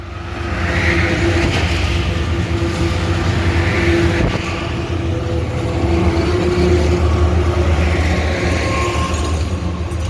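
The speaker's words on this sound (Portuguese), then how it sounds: "é uma ótima oportunidade de nós mostrarmos o trem." A train rolls along a railway with a loud, steady mechanical rumble that stays close and constant from start to finish, and no voices are heard.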